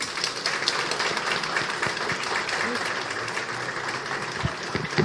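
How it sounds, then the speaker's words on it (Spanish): Applause for university teachers at a Spanish teaching conference, with a crowd clapping steadily and fairly loudly throughout, a few sharper claps standing out near the end. "Entonces un aplauso para todo el mundo."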